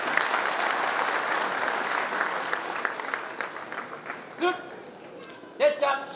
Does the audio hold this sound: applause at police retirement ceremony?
yes